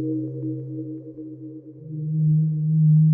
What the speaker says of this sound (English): Sawtooth wave.